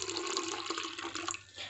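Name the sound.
pouring cooled boiled water into panakam mix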